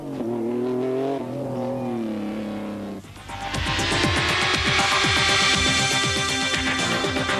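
Rally cars pull away at a Paris-Dakar 1998 stage start, one engine droning steadily before loud revving engines rise and climb through gears nearby.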